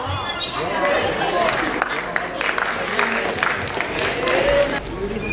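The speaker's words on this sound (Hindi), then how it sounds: "जोरदार तालियां साडे तीनों जजेस ਲਈ" An audience applauds the three judges as they are called onto the stage at the Jhoom 2021 final and awards show, a steady wash of clapping and crowd noise with a host's voice over it.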